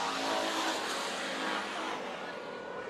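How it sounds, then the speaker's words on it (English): Hobby stock race cars roar around a speedway track at Bakersfield in a dense, continuous wash of engine noise, loud and steady throughout with no voices. "It's hobby stock racing."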